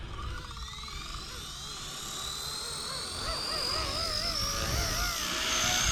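A small RC helicopter's rotor spinning up after its head piece was flipped, a rising, whining drone that climbs in pitch and grows louder and slightly wavering, close by with no talk.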